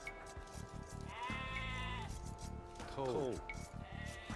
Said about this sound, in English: You need to find all 8 sheep and both boars.